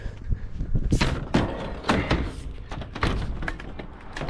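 A heavy glass door being moved and loaded as junk, giving a series of irregular dull thumps, knocks and scrapes, close and fairly loud, with no speech.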